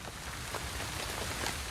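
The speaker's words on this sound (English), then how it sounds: "In the night, rain begins to fall." Steady rain falls at night during a hike near a volcano, a dense, even hiss of drops pattering on surfaces with no pauses.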